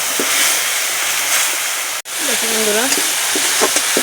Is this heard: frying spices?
yes